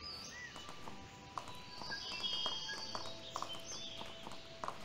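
Horse hooves clip-clopping at a walk in the video game Animallica, a steady soft rhythm of hoof falls under a continuous ambient game bed with occasional chimes and tones.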